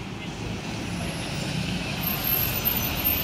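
A bus pulls into the Muara Bungo bus terminal in West Sumatra as part of a six-bus convoy, its steady engine rumble and road noise sustained throughout with a brief high hiss near the end, under a busy outdoor background.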